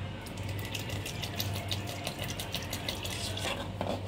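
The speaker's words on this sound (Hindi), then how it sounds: "तो मैं इसमें थोड़ा पानी और ऐड करूंगी" Water is poured into a pot of cooking sago pearls while making sabudana papad, giving a steady, close rushing hiss that continues for several seconds.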